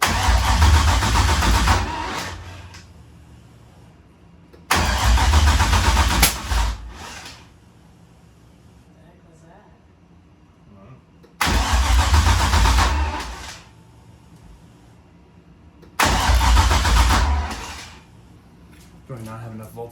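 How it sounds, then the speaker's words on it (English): Four separate bursts of a car engine cranking on a Drift V project car that will not start, each a loud churning crank lasting a couple of seconds, with quieter gaps and some voices between attempts. "So it's cranking, but it won't start."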